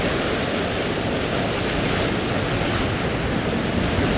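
Ocean waves surge and wash over coastal rocks on the Central Coast near Sydney, a loud, steady roar of surf with wind noise and no pauses.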